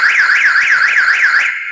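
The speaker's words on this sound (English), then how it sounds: "This is how you configure the alarm output for the audible siren in order to ensure proper functionality." A Hikvision AcuSense security camera sounds its built-in siren: a loud, wavering electronic wail that rises and falls in a steady cycle about five times a second, then cuts off abruptly.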